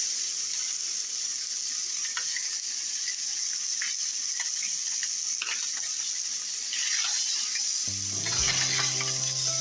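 Two pieces of food frying in butter and margarine in a pan, a steady soft sizzle with faint scraping, then a brief tonal clatter near the end; no talking.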